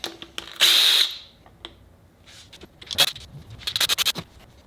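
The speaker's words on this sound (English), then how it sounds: "I need to pull off the cam caps." A power tool whirs in one loud burst lasting about half a second, followed by several short rapid ratcheting bursts, while cam caps come off a Subaru EJ207 engine on a workbench.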